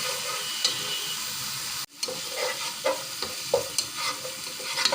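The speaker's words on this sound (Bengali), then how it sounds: "বারবার নেড়ে ছেড়ে কষিয়ে ঢাকনা দিয়ে ঢেকে দিব।" Spices frying and being stirred in a pan for alu ghati, a steady sizzle with scraping spoon strokes, a brief pause, then renewed stirring clinks and hissing close by.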